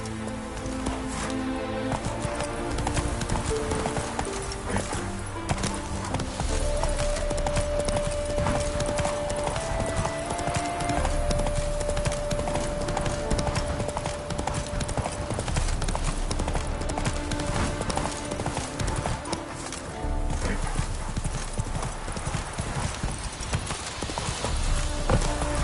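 Roach the horse galloping in The Witcher 3, a continuous rapid clip-clop of hooves close and prominent over ambient game sounds and background music, steady for the whole stretch.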